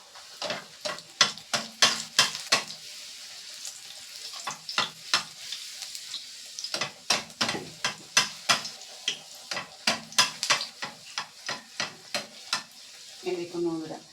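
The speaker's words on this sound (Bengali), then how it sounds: "এই যে এক একটা লুচি তৈরি করে নিয়ে তেলে দিয়ে ভেজে নেব।" Luchi flatbreads deep-fry in oil with a low bubbling sizzle, broken by a long run of sharp, evenly spaced clicks and taps from a utensil against the pan, with no talking.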